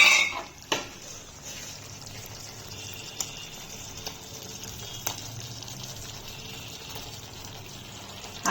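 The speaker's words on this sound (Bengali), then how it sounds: "আলুগুলো দিয়ে এবার আমি আস্তে আস্তে কষে নেব।" Potatoes stir-fried with paneer and soybean in a masala in a pan, a soft steady sizzle with a few faint spatula clicks scattered throughout.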